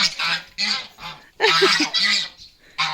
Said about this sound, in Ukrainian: О, мої гусі.